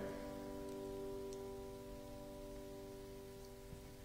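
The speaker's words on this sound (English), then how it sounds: "I think it's raining." Rain falling outside during a live autoharp session, a faint, steady patter with a low hum running steadily underneath it throughout.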